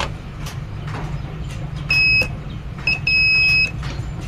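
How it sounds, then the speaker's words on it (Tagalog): Two short electronic buzzer beeps from a multimeter continuity tester sound close up during a flat-screen TV repair, the second longer, over a quiet hum with no talking. "Pero buzzer tayo mga idol yan."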